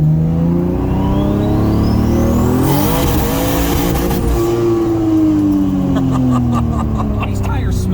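A Toyota Supra's engine revs hard and roars steadily during a brake-boost launch, tires screeching as they spin, loud and close throughout.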